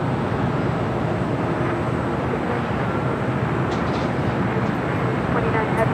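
A jet airliner rolls for takeoff on runway 25 Left at LAX, a steady broadband engine roar filling the whole stretch at constant, fairly loud level with no pauses.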